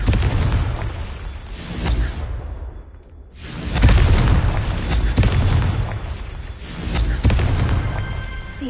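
Loud booming fire-spell blasts in the video game Hogwarts Legacy, heavy bursts with whooshing tails swelling in three waves, a brief lull between the first and second, with a busy game backdrop throughout.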